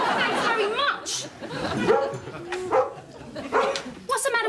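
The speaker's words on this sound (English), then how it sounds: "What's the matter with the dog?" A household dog barks and yips repeatedly, mixed in with lively voices talking over it in a sitcom home scene.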